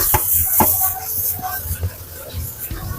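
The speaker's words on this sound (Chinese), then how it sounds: "直接放茄子、香菜段、干辣椒，快速的给它翻炒2下" Eggplant, coriander stems and dried chilies tossed in a hot wok with bubbling sauce, a few quick scraping stir-fry strokes and clanks over a soft sizzle.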